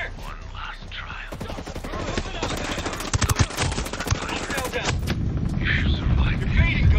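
Gunfire in the video game Ghost Recon, with rapid bursts of automatic shots crackling loudly for several seconds amid game voices and other combat noise.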